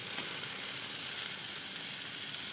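Sautéing in a pan with pepper added, a soft continuous sizzle and hiss heard faintly and steadily, with no voices over it.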